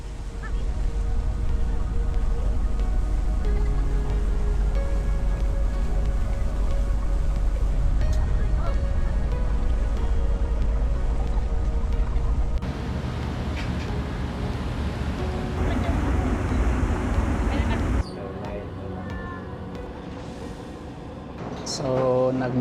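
Ship at sea on a ferry crossing from Cebu to Surigao, its engine a steady loud low rumble mixed with wind noise throughout, the texture shifting partway as other sounds and voices come and go.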